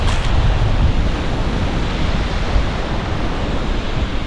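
Wind and surf roar together at a Kent shoreline at night, a loud dense continuous rush with buffeting gusts on the microphone, with no voices.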